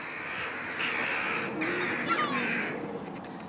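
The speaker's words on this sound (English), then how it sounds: "But these birds are driving me nuts." Crows caw repeatedly outside an abandoned nuclear shelter, several harsh calls overlapping over a steady airy hiss of outdoor background noise, fairly close and loud.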